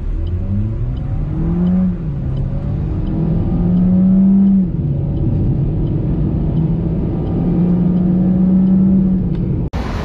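Suzuki Swift Sport accelerating hard on a test drive, engine revs climbing through several gears with shifts in between, a loud steady interior roar.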